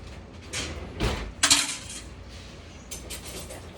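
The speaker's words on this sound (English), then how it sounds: "Better grab a fork." A fork is picked up from a kitchen drawer, giving a few faint metallic clinks and a brief rattle of cutlery, close but quiet, with a soft low bump in between.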